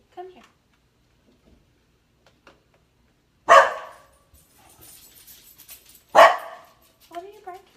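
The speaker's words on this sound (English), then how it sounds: "What are you barking about?" Daisy the dog gives two loud, sharp barks about three seconds apart, with quiet stretches and a few faint speech sounds between them.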